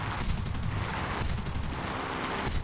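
Machine guns on a Re.2005 fighter fire in War Thunder, rapid rattling bursts over a constant engine roar, with a short gap between bursts and another burst starting at the end.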